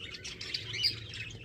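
Diamond doves at a dove farm give soft, high chirping calls that repeat several times over quiet background noise, with nobody speaking.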